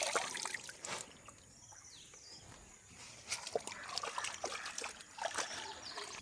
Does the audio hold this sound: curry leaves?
no